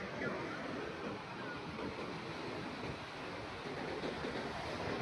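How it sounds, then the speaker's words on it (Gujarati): Rough sea at high tide with waves surging continuously, a dense roar of surf and wind close by, steady and loud throughout with no clear breaks. "મિત્રો તો જો દરિયો કેટલો ગાંડો થઈ ગયો યાર"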